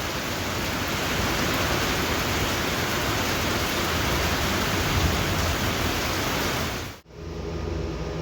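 Heavy rain pours down on a farm in a loud, steady, hissing roar that fills the whole clip, broken only by a brief cut near the end before the downpour resumes.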